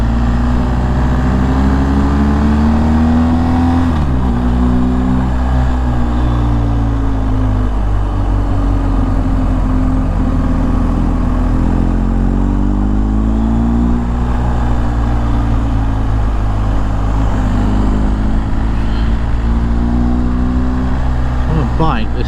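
BMW GS 1250 motorcycles climb a gorge road, the engine droning loudly and steadily with rising and falling pitch through gear changes, and heavy wind rush over it.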